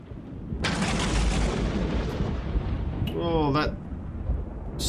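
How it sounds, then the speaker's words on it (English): Loud storm thunder in the space survival game Empyrion Galactic Survival: a broad, sustained rumbling roar that keeps going, with a short sharper burst partway through. "storm is very, very loud."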